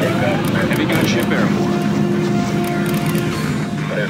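Attack helicopter gunship rotors in Command & Conquer Generals Zero Hour, a steady loud droning whir with a constant hum running throughout, over faint game voice lines.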